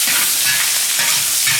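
Scallion, ginger, garlic and chili pieces fry in hot oil in a wok, a loud continuous sizzle close by with faint scraping of stirring underneath.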